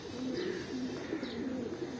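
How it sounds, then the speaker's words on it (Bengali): Adult pigeons coo in a rooftop loft in Kolkata, a soft, low, repeating rolling coo heard fairly faintly and steadily, with no talking. "এটা পুরো ধাড়ি পায়রা"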